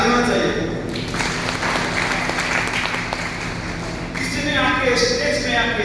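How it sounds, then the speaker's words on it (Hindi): Seminar audience in Malwa applauds, a broad crowd of clapping hands that swells and thins over several seconds, with music and a voice heard underneath. "एक ताली होना चाहिए।"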